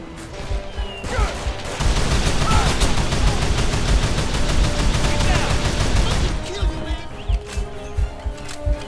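Heavy sustained gunfire in the shooter game Call of Juarez: The Cartel, a loud continuous fusillade of rapid shots and crashes lasting several seconds, framed by scattered single shots and shouted voices.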